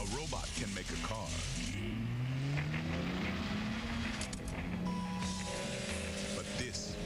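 A car engine revs and roars with a rising, climbing pitch inside a TV commercial, while a voice talks over it throughout.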